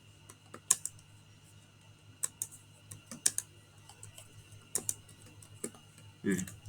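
Quiet, scattered keystrokes on a computer keyboard during data entry, sharp clicks arriving in small irregular bursts over a faint steady hum.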